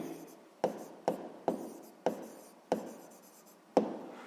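A pen scratches across paper in a series of short strokes, about seven sharp, evenly spaced bursts close by, with no talk.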